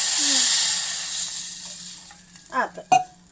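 Water splashed into a hot tempering of oil and spices for North Karnataka pundi palya hisses and sizzles steadily, with a few brief clatters and a sharp burst near the end; no one talks.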